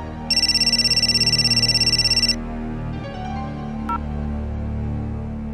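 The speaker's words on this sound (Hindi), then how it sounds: "विक्रम भैया का फोन है, मैं रिसीव नहीं करूंगा।" A telephone ringtone trills loudly in a rapid electronic pulse for about two seconds, then stops, leaving a tense background music bed with a brief chime, in a Hindi TV drama scene.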